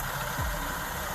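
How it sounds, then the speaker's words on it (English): A car engine idles with a rattling exhaust at a traffic stop, a steady low rumble with a brief deeper surge partway through, close and continuous. "Exhaust is rattling."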